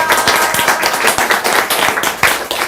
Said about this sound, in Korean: 초청 잘한 것 같으면 박수 한번 치겠습니다.